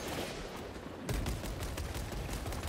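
Rapid bursts of gunfire in Warhammer 40K Space Marine 2, dense rattling shots that turn louder and closer after a second, continuous through the short stretch, no voices.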